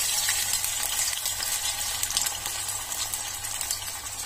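Bitter gourd pieces frying in hot oil give a steady, close sizzle that carries on without a break, with faint bubbling and stirring noises and no voices.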